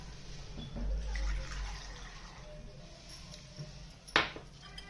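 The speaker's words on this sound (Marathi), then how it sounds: "आणि थोडं थोडं पाणी ॲड करते याच्यामध्ये" Water trickles and splashes faintly into a bowl of gram flour and yogurt batter, close up, with a soft stirring hum underneath and a brief clink near the end.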